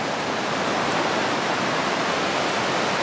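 Big ocean waves crashing on a beach, a steady, loud wash of surf noise filling the whole span without pauses, close and unbroken, with no voices.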